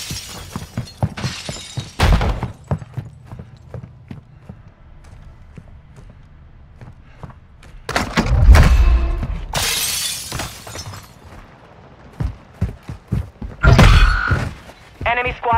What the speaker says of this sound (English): Hold a mortar strike.